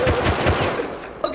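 Rapid automatic gunfire in a video game, a dense continuous rattle of shots, loud and close, over the whole short burst.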